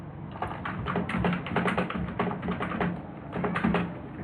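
Fast, steady typing of C code on a computer keyboard, close and clear, a dense run of key clicks with short pauses between bursts and no voice.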